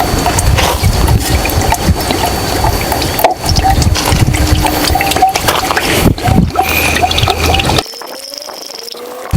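Sulfuric acid is poured into a container set down low, giving a steady, close, gushing liquid rush that runs for several seconds and then cuts to near quiet.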